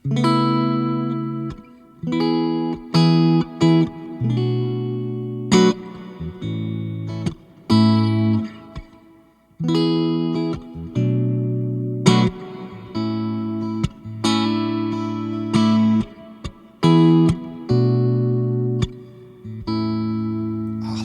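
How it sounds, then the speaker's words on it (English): Electric guitar through the reverb of a Valeton GP-200X multi-effects processor: notes and chords ring out with a lush, spacious reverb tail, each phrase decaying smoothly into the next, played alone without any voices. "Listen to that reverb. It's a really, really good reverb for what is an affordable multi-effects unit."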